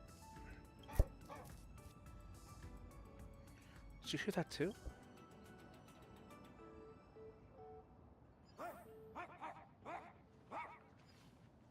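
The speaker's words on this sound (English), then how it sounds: "Righteous barking of a dog." A dog barks in the Honkai Star Rail game during a Fate collaboration event, with a few yips and whimpers scattered among game sounds, while a voice speaks over them.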